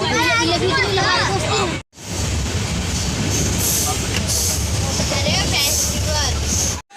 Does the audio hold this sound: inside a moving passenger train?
yes